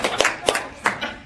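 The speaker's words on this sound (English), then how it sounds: "That's a clap." Three separate hand claps ring out close by and loud, each about a third of a second apart, in a small room at a member meeting.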